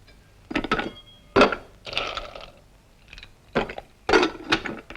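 Ice cubes dropped into a glass of scotch, a series of hard clinks and cracking rattles in several bursts, fairly close and loud, with no voices.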